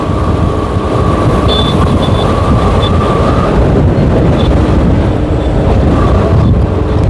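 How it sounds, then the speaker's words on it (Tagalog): Loud, continuous strong gusts of wind roaring and buffeting the microphone during a bicycle race, with a steady low rumble throughout and no pauses. "Napakalakas ng hangin. Napakalakas ng ating bugso ng hangin."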